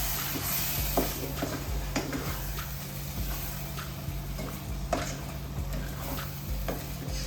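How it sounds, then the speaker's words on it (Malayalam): Rajma curry mixture with tomato and potato being sautéed and stirred in a pan, giving a steady close sizzle with scraping stir strokes and light clicks of the utensil throughout. "ഇതൊന്ന് നല്ല വഴറ്റിയെടുക്കാം."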